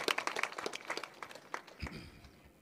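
An audience at a kirtan claps, close and fairly faint. The sharp, uneven claps thin out and fade within a couple of seconds.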